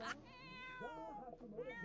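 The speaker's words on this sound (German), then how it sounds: "Katze." A cat in The Sims 4 meows with a drawn-out, wavering tone, then a shorter second meow follows, fairly close and clear.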